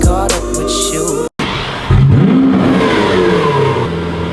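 A supercar engine, sounding much like a Lamborghini Aventador, revs hard and close on a driveway after a short burst of music and a brief cut, the pitch climbing and then holding in a loud sustained roar.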